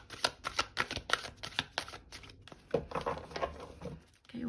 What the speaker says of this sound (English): I will give the deck a few more shuffles.